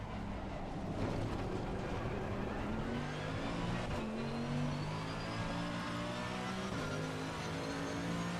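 Race car engine lapping Spa in a racing sim, droning steadily with shifting gear tones and rising pitch sweeps throughout, loud and continuous with no talk over it.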